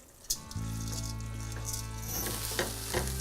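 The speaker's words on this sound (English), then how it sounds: "we just want the rice to lightly toast in the bottom of the pan" Risotto rice toasts in the bottom of a pan, crackling softly and steadily up close under a low background hum, with a couple of light scrapes from stirring.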